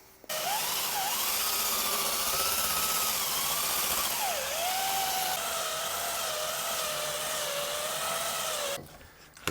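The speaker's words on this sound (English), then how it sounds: "Let's take our handheld drum sander." A handheld drum sander whines steadily on a guitar body build, its pitch wavering as it loads and eases, then it stops; nobody speaks.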